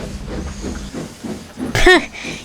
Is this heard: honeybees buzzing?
no